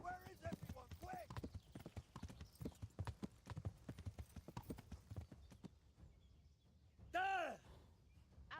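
Horse hooves clip-clopping in the video game Kingdom Come: Deliverance, a rapid irregular run of close hoof strikes throughout, with a horse's whinny near the end, and voices talking in the background.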